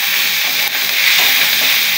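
Fried potatoes and bitter gourd being stirred together in a hot pan, a steady close sizzle and hiss of frying with faint scraping running throughout.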